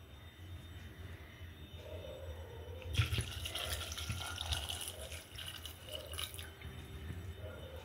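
Water is poured into a pressure cooker holding soaked peas for ghugni, a gushing splash that begins suddenly and continues for a few seconds at moderate, close volume before tapering off, with no speech.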